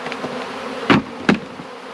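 Honey bees from a swarm trap buzz in a continuous close hum while two short knocks or bumps sound against the trap as the bees are shaken out.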